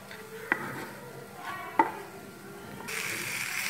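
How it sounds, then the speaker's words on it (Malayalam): Garam masala and spices being stirred in a pan for a Kannur-style fish dish: soft scraping with a couple of faint taps, then a steadier sizzle rising toward the end. "ഇതൊക്കെ നല്ലോണം മിക്സ് ചെയ്യുക"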